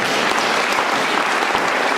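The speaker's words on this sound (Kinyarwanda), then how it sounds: "Ikomera amashyi." A church audience at a preacher's sermon breaks into dense, continuous applause, loud and steady with many hands clapping at once.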